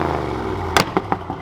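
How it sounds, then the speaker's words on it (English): A Ford F100 idles with a rumbling exhaust, then throws out a few sharp, close pops as it shoots flames, three or four bursts spaced about a fifth of a second apart. "it's shooting flames at idle now"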